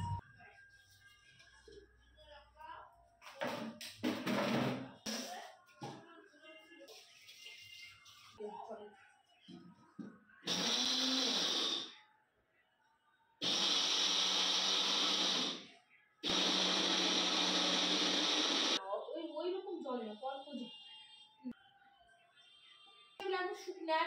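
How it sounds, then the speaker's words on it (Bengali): An electric blender whirs through soaked ingredients for sāj pithā in a home kitchen, running in three loud bursts of several seconds each, with people talking between the bursts. "সুন্দর ব্লেন্ড হয়ে গেছে"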